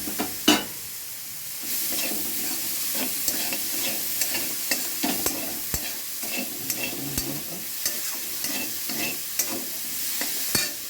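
Potato chop mixture being stirred in a pan, a spatula scraping and tapping in an uneven rhythm over a soft, steady sizzle.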